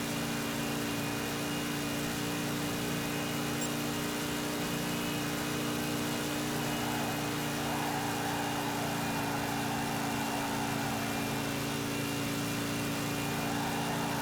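Car engine held at full throttle in the game Gran Turismo 5, a steady, unbroken high-revving drone with no gear changes or braking, loud and constant throughout.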